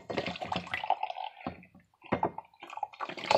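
A partly frozen drink, chilled in the freezer, is poured into a cup in a few short, uneven bursts of splashing liquid with brief pauses between them.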